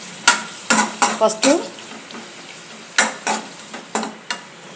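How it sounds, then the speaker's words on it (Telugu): Chicken pieces frying directly in oil for a Bombay green chicken masala roast, with a series of sharp stirring and sizzling bursts over a low hiss and a voice briefly speaking. "ఆ నూనెలో చికెన్ డైరెక్ట్గా వేసేసానండి"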